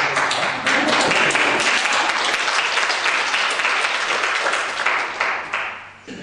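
A church congregation bursts into sustained applause after a choir's hymn, dense clapping holding steady and loud for several seconds before tapering off near the end.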